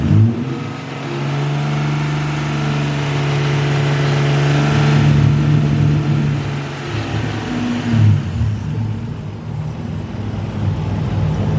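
A 1990 Nissan Maxima GXE with an early 3.0-liter VQ engine and 92,000 miles runs close by, holding a steady idle that swells into revs and then settles back down.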